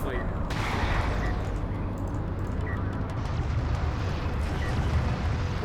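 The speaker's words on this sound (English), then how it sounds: "once the artillery starts barraging" Dense, continuous rumble of explosions and gunfire from an artillery barrage in a competitive strategy game match, heavy low booms rolling throughout with scattered sharper cracks on top.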